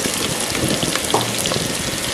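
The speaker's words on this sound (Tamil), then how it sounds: "ஸோ வெங்காயத்தை ஆட் பண்ணி கொஞ்சம் நல்லா வதங்கணும்" Onions sautéing in oil for parotta salna give a steady close crackling sizzle with light scattered pops and no voices.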